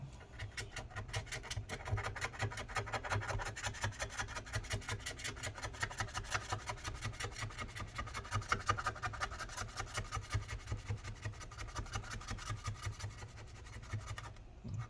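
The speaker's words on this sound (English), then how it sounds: "Done scraping all that stuff." Adhesive residue being scraped off a 2012 15-inch Retina MacBook Pro A1398, heard as continuous rapid, close scratching strokes in a steady rhythm that lasts the whole stretch, with no talking.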